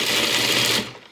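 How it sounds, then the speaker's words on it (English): A food processor pulsing cashews and almonds into coarse pieces, a loud steady whirring rattle that runs for most of the moment, then winds down and fades. "I'm going to put them in my food processor"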